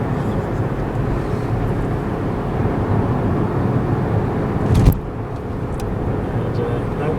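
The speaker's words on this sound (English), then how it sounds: "Car's making a lot of noise." A Hyundai petrol car engine revs hard in third gear around 4,000 rpm, a loud steady droning roar from the cabin, broken by a brief thump near the end before the drone carries on.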